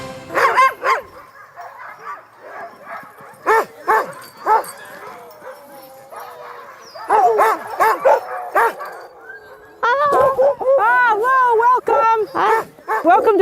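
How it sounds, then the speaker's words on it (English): Sled dogs in an Alaskan dog sled yard holding about 30 dogs and 10 puppies bark loudly and close by in repeated bursts, with yips and whimpering howls rising near the end, and speech also audible. "Welcome to our dog sled yard, and we have 30 sled dogs here and 10 puppies"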